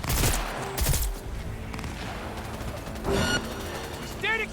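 Enemy gunfire in the video game Cyberpunk 2077, a burst of sharp shots at the start followed by further volleys around the middle of the clip, set against a steady game soundscape and overlapping voices.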